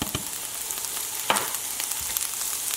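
Steady hot-pan sizzle of bok choy stems frying, with a few scraping stirs and clatters on top, close and continuous, no talking.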